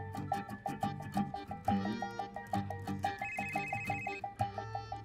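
A telephone ringtone repeats in steady, evenly spaced pulses, moderately loud and close, with music-like layers over it and no talking.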